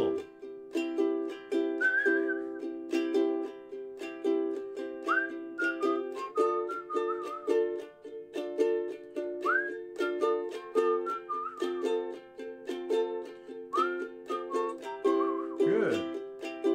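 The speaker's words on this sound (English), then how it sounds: "Keep going, let's whistle." People whistle the melody of a reggae song over steady ukulele strumming, the whistled phrases coming in short repeated bursts, moderately loud and close.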